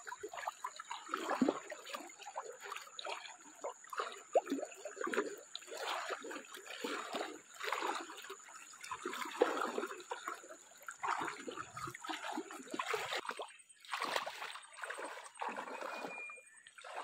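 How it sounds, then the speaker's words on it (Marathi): A river flows and trickles close by, a steady uneven burble of moving water that stays at a moderate level without pause. "बघा ही पुरी नदी आहे इकडे खाली"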